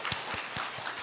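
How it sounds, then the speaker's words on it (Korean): Hands clap in a quick, even rhythm at an evening church gathering, five crisp beats close together in a short burst of applause. "저 뒤에 박수 한번."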